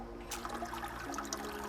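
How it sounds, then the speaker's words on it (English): Home-brewed pale ale drips and trickles out of a Klarkstein kettle, a soft, close, continuous liquid trickle with faint splashy patter and no speech. "Leave it drip out, and we'll see how much we got."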